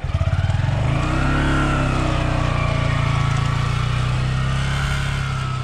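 A car pulling away in first gear on a road trip through Laos, its engine droning loud and steady close by with a rising pitch, with no one talking over it.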